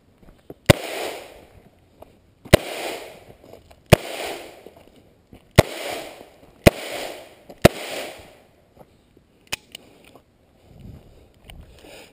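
Handgun shots fired one at a time during a zigzagging footwork drill toward a target, with sharp loud cracks spaced about a second or two apart, seven strong reports followed by a couple of fainter ones.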